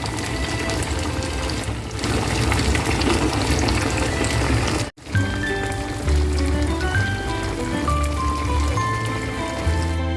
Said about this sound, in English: Fry on high flame. Fry for 2-3 minutes more.